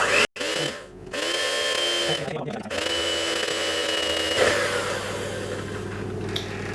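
An electric mixer whirs through lemon custard cake batter in a home kitchen, a steady loud motor hum with brief stops and restarts near the beginning and in the middle, a voice talking over it.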